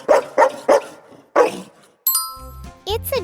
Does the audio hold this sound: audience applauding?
no